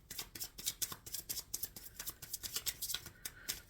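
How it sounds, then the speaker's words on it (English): Tarot cards are shuffled close by, with a steady run of crisp papery riffs and flicks that repeat rhythmically and fairly quietly, with no talking. "Shuffling for July."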